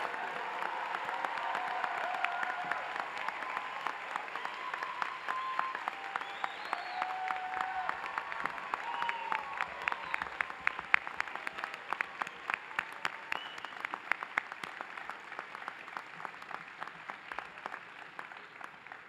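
An audience applauds students at a medical school white coat ceremony, sustained dense clapping filling a large hall for nearly twenty seconds, steady and warm with a few faint cheers mixed in.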